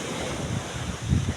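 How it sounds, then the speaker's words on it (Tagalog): Big sea waves wash onto a rainy shore, heard as a swelling roar of surf mixed with gusty wind buffeting the microphone, rising at the end, with no voices. "malaki ang alon sa dagat"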